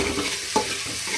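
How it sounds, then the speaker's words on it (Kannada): Tempering for a vegetable palya of sprouted grams, green gram, carrot and beans sizzling in a pan, a short burst of hot frying with one sharp stirring scrape midway. "ಒಗ್ಗರಣೆ ಪಲ್ಯ, ಅದಕ್ಕೆ ಒಗ್ಗರಣೆ ಮಾಡ್ಕೊಳ್ತಾ ಇದ್ದೀನಿ"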